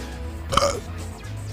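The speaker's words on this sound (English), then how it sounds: "And a very, very underwhelming burp." A short, weak burp with a low throaty rasp, over in about a second, rising only a little above a steady background hum and faint noise, with no talking.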